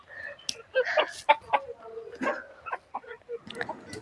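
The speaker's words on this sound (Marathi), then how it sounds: "ही बघा खरी गावठी कोंबडी." Village country chickens clucking as they come out of their coop, a close cluster of short, irregular clucks and squawks, with a person talking in between.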